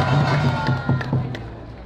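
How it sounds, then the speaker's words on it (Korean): An audience at a Korean political speech gives a burst of applause mixed with crowd noise and a few scattered claps, fading slightly toward the end. "그분들을 위해서 박수 한번 보내주셔야겠습니다."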